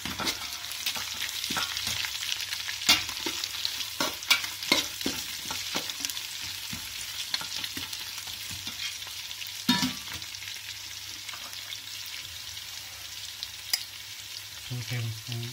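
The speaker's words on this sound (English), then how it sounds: "After 3 minutes, let's add green chilies." Green chilies fry in a pan for chicken pulao, a steady close sizzle with scattered stirring scrapes and clinks throughout, no voices.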